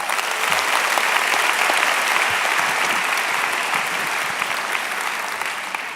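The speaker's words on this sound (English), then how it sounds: "how about a round of applause for them?" A business-faculty convocation audience claps for family and friends, producing a loud, continuous roar of many hands that stays dense throughout and eases only slightly toward the end.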